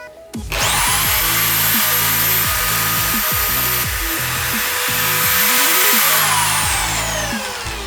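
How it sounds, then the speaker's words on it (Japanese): A HiKOKI electric drill mounted in a drill stand bores a hole through a board, its motor spinning up to a steady high whine and then winding down, with repeated low knocks and clunks from the stand and workpiece throughout. "次はこちらに穴を開けていきます。"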